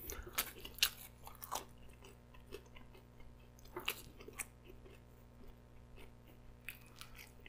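Bites and chewing of a Domino's pepperoni and tomato pizza come up close, with crisp crunchy bites in irregular bursts against a quiet background.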